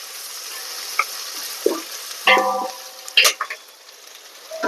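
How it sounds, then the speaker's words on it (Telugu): Ginger garlic paste fries in a pan with a steady soft sizzle, broken by a few sharp clinks and scrapes of a spoon against the pan, close up and without talk. "ఇందులో అల్లం వెల్లిగడ్డ పేస్ట్ ఒక సగం చెంచా ఇది పచ్చివాసన వరకు వేయించుకోవాలి"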